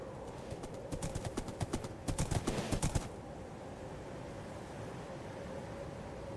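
Rapid hoof clip-clops from horses galloping in a Minecraft horse race, a burst of sharp repeated clatters for about three seconds that then stops, leaving only quiet background noise.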